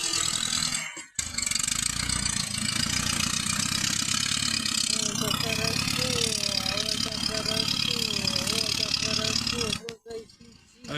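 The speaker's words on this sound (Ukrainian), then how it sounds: "У нас працює трактор." A tractor engine runs steadily and loudly at mid pitch, rattling and droning for several seconds before cutting off briefly near the end.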